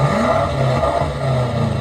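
A luxury car engine revving loudly and steadily up close, a deep throaty roar over a brief burst.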